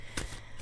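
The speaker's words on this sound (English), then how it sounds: "All right, I'm going to give them a little shuffle." Oracle cards shuffled by hand: two short, close riffling bursts of card stock, separated by a brief pause, with no talking.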